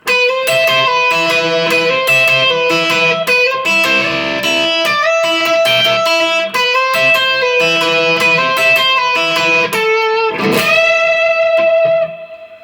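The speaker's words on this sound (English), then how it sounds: "the guitar solo, which sounds like this." A distorted electric guitar plays a sustained melodic solo with effects and reverb, ringing out and fading at the end.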